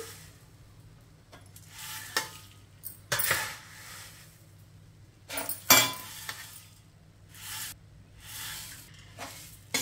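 Puffed rice is tossed with a chili spice mix in a pan with the stove off, giving intermittent bursts of rustling and scraping between quiet gaps, plus a few light clinks.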